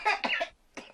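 A woman coughs in two bursts: a harsh cluster of coughs, a short pause, then a quieter cough at the end, heard close up and loud with no talk over it.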